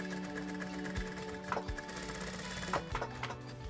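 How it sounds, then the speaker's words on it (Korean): A sewing machine whirs in a steady, dull rhythm at a traditional market in Daegu, with a few louder mechanical knocks cutting through the market background. No one speaks. "둔탁하지만 나름의 장단에 맞춰 돌아가는 재봉틀 소리마저도 정겹게"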